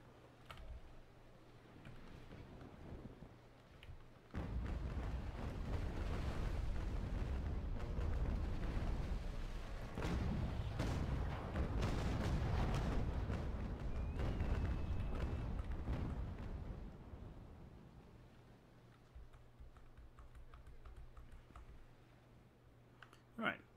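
Ship cannon fire in the naval battle game Naval Action, a long stretch of deep rumbling broadsides and booms over keyboard clicking, loud through the middle and fading toward the end.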